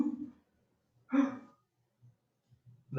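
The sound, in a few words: people imitating choking and gasping for breath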